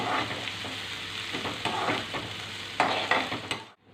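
Curry leaves crackle and sizzle in hot oil in a pan while cooking cassava adai batter seasoning, close and lively, with scraping stirs and sharp pops before the sound cuts off abruptly.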